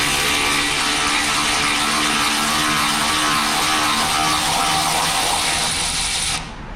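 Ratchet wrench tightening a bolt on the steering box of a 1965 Mustang Fastback, heard as a continuous loud, dense mechanical clatter that runs steadily, then eases off abruptly at the end.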